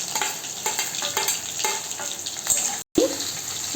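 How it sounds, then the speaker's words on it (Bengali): Vegetables with ginger, garlic, chillies, grated capsicum and carrot frying in a pan for chow mein, a steady close sizzle with light stirring scrapes and a brief cut to silence near the end. "সঙ্গে দিয়ে আমি ভেজিটেবলসগুলো ভেজে নেব।"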